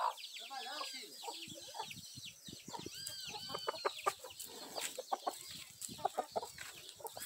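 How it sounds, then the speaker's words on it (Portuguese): A rooster on a small farm gives repeated close, loud clucks and short calls, busy and irregular, mixed with other fowl chatter and some faint voices. "Esse aqui é o galo que veio lá da casa da minha cunhada, que ela mandou pra cá."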